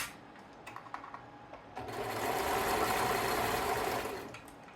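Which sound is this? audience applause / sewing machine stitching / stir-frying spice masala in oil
sewing machine stitching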